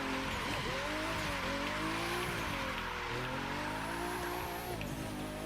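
A game car in The Crew 2 holds a sideways drift, engine droning steadily while tires squeal and shift pitch in long sweeps, loud and continuous without any talk.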